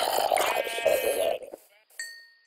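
A sheep bleats in Minecraft, one wavering cry up close followed by a short, fainter tonal call, with a brief bit of talk and clinking nearby.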